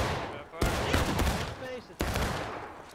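Scattered independent musket fire in the Civil War game War of Rights, with two sharp near reports about 1.4 seconds apart amid a crackle of more distant shots, and a voice briefly heard between them.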